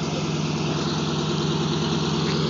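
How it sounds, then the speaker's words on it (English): A Kenmore Air seaplane taxis out on Lake Union for departure, its engine a steady, loud, low throbbing drone with a pulsing idle rhythm and no voices over it. "this is a fifth seaplane taxiing out on Lake Union for departure"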